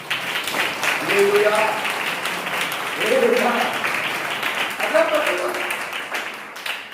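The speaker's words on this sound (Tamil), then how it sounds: "ஒரு கைதிட்டு ஆண்டவரை மையப்படுத்துவோம்." A church congregation at a Pentecostal service in Alwarkurichi claps together in a steady, moderately loud burst that rises and falls over several seconds, with voices sounding over the clapping.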